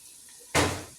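Leftover boiled lentil water hits a hot pan of frying mash daal with a sudden loud hiss and splash that fades slowly, after a quiet moment.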